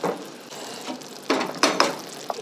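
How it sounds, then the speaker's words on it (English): Sugar syrup bubbles and sizzles in a pot, a soft continuous hiss with a few sharper bursts and light pot clinks, close and without talk. "And you want to get this to a boil and boil it for about a minute."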